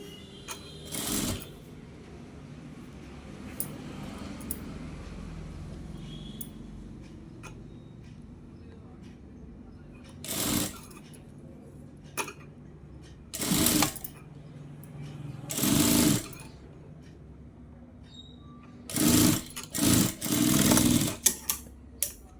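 Sewing machine stitching cloth in short bursts of rapid mechanical chatter, several separate runs of a second or two each with quiet pauses between, close and fairly loud.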